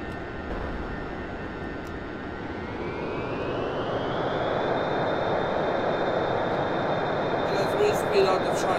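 A jet engine roars steadily in an F-14 Tomcat flying in the Roblox video game, its whine climbing in pitch midway and then holding a high, loud sustained tone.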